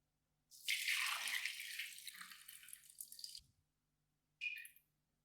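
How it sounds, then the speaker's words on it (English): Liquid from a boiled mixture of plastic glove pieces drips through a cotton-plugged funnel, a steady close run of wet patter for about three seconds, then a short second burst after a pause. "then I poured it all through a funnel"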